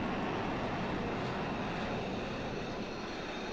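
A propeller airplane engine in a flight simulator game drones steadily at a moderate level, a constant broadband roar with no talk over it.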